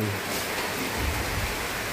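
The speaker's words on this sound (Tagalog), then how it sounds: "Lakas ng ulan." Heavy rain falls steadily outdoors by a house, a constant broadband hiss with low rumbling underneath, loud and even throughout.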